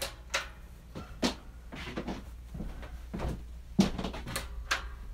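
The latched door of a woodturning workshop is worked open, giving several wooden knocks, clunks and a rattle of the latch at close range with no talking.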